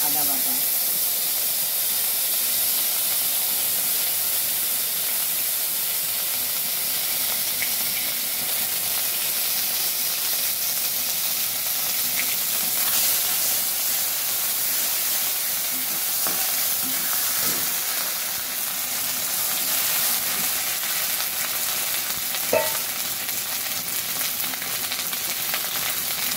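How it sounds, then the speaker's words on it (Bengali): Ground spices and ginger paste fry in a pan for a Bengali curry with fish head and potato, giving a steady close sizzle and hiss throughout with faint stirring scrapes. "বাটা মশলাগুলো দিয়ে দিচ্ছি। প্রথম দিলাম আদা বাটা"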